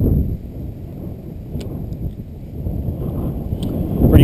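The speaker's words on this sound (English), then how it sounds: "Pretty windy, so I hope you guys can hear me." Outdoors, strong wind buffets the microphone in a low, continuous rumble that swells and fades over a few seconds, with no clear voices.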